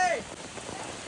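Rain falling in the Nagarhole forest area makes a dense, even hiss of drops on surfaces, steady and moderately loud, with a brief high tonal sound at the very start.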